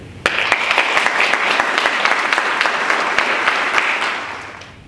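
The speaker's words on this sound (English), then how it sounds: "let's give a round of applause to our ag educators in the state of New" An audience at a state FFA convention applauds agricultural educators, dense, loud clapping starting abruptly and holding steady before tapering off near the end.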